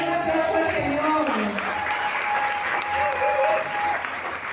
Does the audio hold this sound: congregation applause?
yes